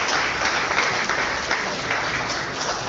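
Audience at a startup demo day in Singapore applauding, a dense, even wash of clapping from many hands that continues steadily throughout.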